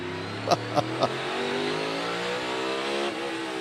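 NASCAR Cup cars practice on the tight quarter-mile track at the Coliseum, their engines droning and revving. A few sharp bursts come early, then a steady roar continues under commentary.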